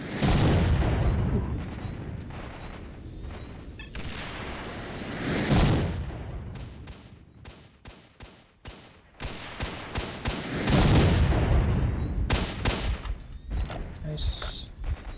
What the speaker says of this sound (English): Somebody else shooting me over here, I think. How many rockets does this asshole have?